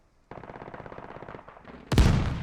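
A Scorpion submachine gun firing in a close-quarters urban shooter game, a rapid even burst of about fifteen shots, then a louder heavy blast, all without talk.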